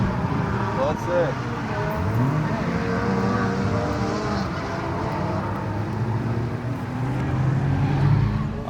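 Cars drifting on a track with the squad, a steady loud engine roar and tyre noise running throughout, with voices talking over it.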